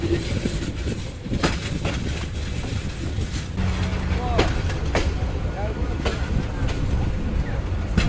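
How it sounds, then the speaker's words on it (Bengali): Parabat Express train pulling into Brahmanbaria railway station in the morning: a steady, close rumble and clatter of rolling cars runs throughout, with sharp knocks and a brief low horn-like tone partway through. "সকাল আটটা পঞ্চাশ মিনিটে ট্রেন প্রবেশ করছে ব্রাহ্মণবাড়িয়া রেলওয়ে স্টেশন"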